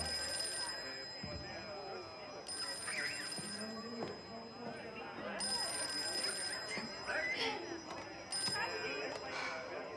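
A telephone rings indoors in a Brazilian film scene about a singer, its bell tone sounding repeatedly under overlapping voices and background noise.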